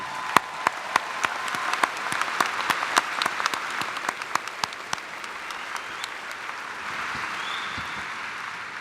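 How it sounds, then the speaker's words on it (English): A graduating class and audience at a Xavier University undergraduate commencement ceremony applaud steadily, dense clapping with sharp individual claps standing out, sustained and even before gradually thinning toward the end. "Give yourself a round of applause."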